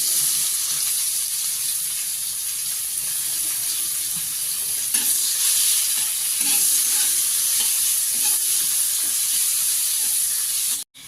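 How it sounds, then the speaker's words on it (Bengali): A steady, bright sizzle of onions frying in a pan with bay leaves and whole cumin runs close and continuous, with occasional soft stirring knocks, and then stops abruptly at the end; nobody speaks. "পেঁয়াজগুলো আমি লাল লাল করে ভেজে নিয়েছি।"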